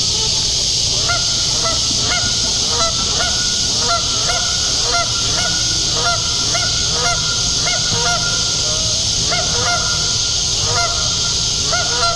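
A flock of geese honks repeatedly in an irregular chorus over a steady, loud background hiss, calls overlapping throughout, near boats on the water.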